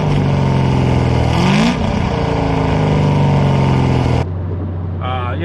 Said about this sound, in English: The engine of this car, plus with the added exhaust, is so loud you can't even hear the stereo anyways